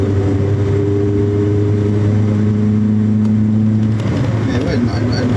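A Peugeot 106 XSi engine drones steadily from inside the moving car, a loud constant low hum with a held tone that shifts slightly in pitch as it drives.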